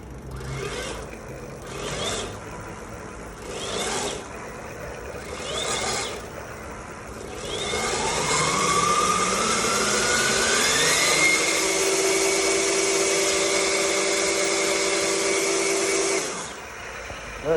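CYC electric bike mid-drive motor running on throttle at assist level 1, a whine that rises in pitch and then holds a steady high hum for several seconds before cutting off, close and fairly loud after some light handling noise.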